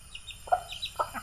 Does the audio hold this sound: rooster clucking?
yes